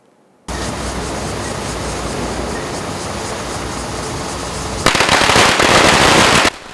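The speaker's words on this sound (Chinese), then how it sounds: "南投县农产运销公司有人放炮啊欢迎" A long string of firecrackers set off at a Nantou County meat market to welcome a new pig transport truck, a dense, loud, unbroken crackling rattle that starts suddenly and intensifies into a harsher burst toward the end.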